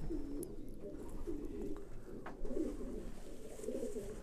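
Racing pigeons coo in soft, repeated low burbles close by, several overlapping calls rising and falling in a steady rhythm over quiet background.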